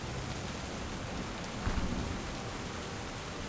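Steady hissing rain in the fantasy video game Stoneshard, with a low rumble of thunder rising briefly in the middle, continuous and fairly even in level with no voices.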